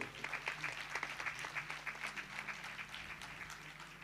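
Congregation at a Swaminarayan religious gathering applauds three newly initiated attendants, sustained rhythmic clapping from a crowd, moderately distant and steady, with a low hum underneath.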